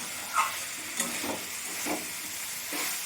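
Jackfruit and potato being stir-fried with spices in a pan, with soft scraping stirs and a gentle sizzle recurring every half second or so at close range.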